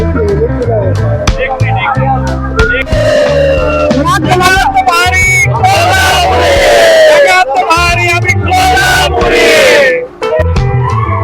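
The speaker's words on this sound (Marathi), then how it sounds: "महाकाळ धबधब्याजवळ पर्यटकांची ही झालेली गर्दी आहे" A crowd of tourists near the Mahakal waterfall shouts and cheers in loud, overlapping voices, with rising yells and whoops close by and sustained throughout, briefly dipping near the end.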